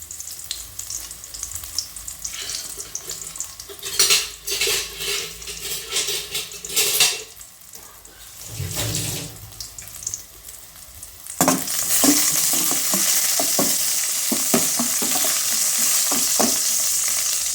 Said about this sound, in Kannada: ಈಗ ಬೆಳ್ಳುಳ್ಳಿ ಮತ್ತು ಒಣಮೆಣಸಿನಕಾಯಿ ಇದು ಎಣ್ಣೆ ಒಳಗೆ ಚೆನ್ನಾಗೆ ಒಂಥರ ಹುರ್ಕೊಳ್ತು ಹುರಿತು